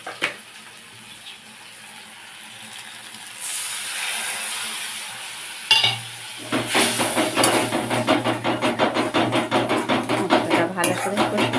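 Spice paste with a splash of water being sautéed in a pan for a chhana kofta curry, a quiet hiss building into steady sizzling with rapid rhythmic scraping and clinks of a metal spatula against the pan.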